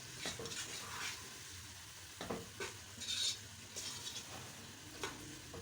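Meat browning in a pot for Sindhi biryani, sizzling steadily while a spoon stirs it in several separate scraping bursts, close and moderately loud with no talking.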